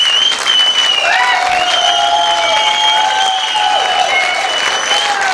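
An audience applauds at an event honoring a leader named Sangram, sustained clapping over several seconds with tonal whistles or feedback-like lines running above it and a cheer mixed in.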